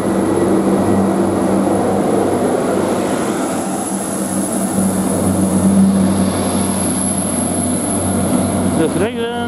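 A Transport for Wales Class 175 diesel passenger train departs Cardiff Central: a loud, steady engine drone with a continuous low rumble and a high whine, with a brief rising squeal at the end.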